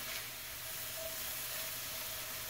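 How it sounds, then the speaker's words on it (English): Vegetables sautéing in butter in a cast iron skillet, giving a steady, soft sizzle and crackle with a faint hiss, close and quiet, with no talking. "Soften those up. Sauteed in butter."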